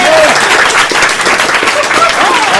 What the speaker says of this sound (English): I couldn't hear because everyone was clapping